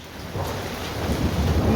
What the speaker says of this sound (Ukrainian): Дивіться, який у нас дощ.